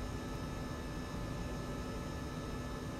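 A MiG-21 Bis jet engine at full throttle in the DCS flight simulator: a steady, dense, even roar with a constant whine layered over it, unbroken for three seconds and with no voices.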